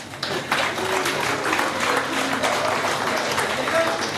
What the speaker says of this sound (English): Can we have a cheer up for them